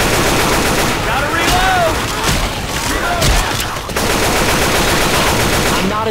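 Rapid bursts of gunfire from Left 4 Dead 2 in a zombie-infested haunted forest, loud and close with overlapping machine-gun fire and heavy thuds, voices shouting over the shooting.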